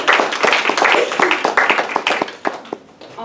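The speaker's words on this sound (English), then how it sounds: "So let's give him a round of applause for all his help." Audience applause at a university lecture event on global climate change, a dense wash of many hands clapping steadily for about three seconds, fading slightly toward the end.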